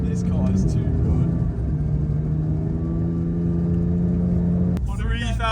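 A Porsche 911 GT3 drives on snowy roads in Lapland, its engine a loud, steady low rumble that cuts off near the end, with people talking over it.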